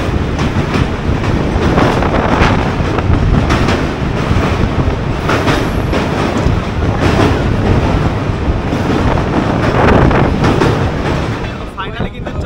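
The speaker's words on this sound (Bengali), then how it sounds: "দেখো ওই সাইড দিয়ে কিন্তু ক্রস করছে ফলকনামা" The Falaknuma Express rushes past on the adjacent track, a loud, continuous rattle and rumble of wheels and carriages heard from close by on a moving train.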